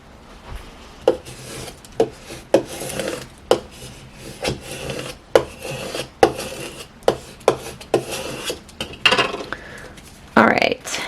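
Expressions masking transfer tape being laid and smoothed onto cut vinyl lettering, giving a series of dry rubbing scrapes and soft taps at an uneven rhythm, close and fairly quiet, ending in a louder crinkly rustle.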